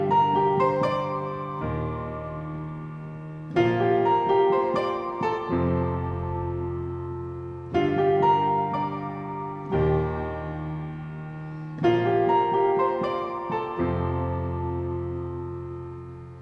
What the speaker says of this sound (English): there you can hear it's got a nice trail to it, kind of has a little bit of a bell sound to it